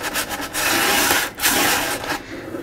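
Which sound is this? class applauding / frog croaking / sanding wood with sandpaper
sanding wood with sandpaper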